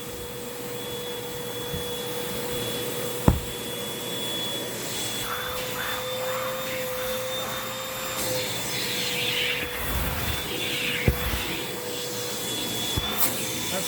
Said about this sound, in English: Let's quickly vacuum in the cushions.